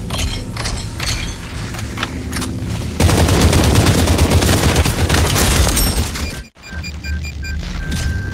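Rapid gunfire in a video game, sustained dense bursts from about three seconds on with mechanical clicking and clatter before it, loud and close, a brief dropout near the end, then more shots and tonal game effects.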